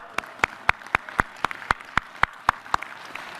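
Steady, evenly spaced claps ring out close by, about a dozen sharp beats in a regular rhythm, in applause for Canadian soccer players Max Crepeau and Richie Larea at a World Cup celebration and tree-lighting in Washington.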